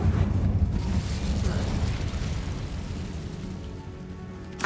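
Incendio fire spell cast in the Hogwarts Legacy video game inside a tomb, a loud, steady roaring whoosh of flames that holds for several seconds and flares briefly at the end.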